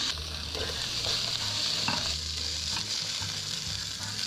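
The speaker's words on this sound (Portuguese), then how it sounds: "Farei a mesma coisa com a lula. Deixar ela dourar um pouquinho e já retirar." Squid browns in a frying pan with a constant sizzle, broken by occasional scrapes and clatters of stirring, all close by.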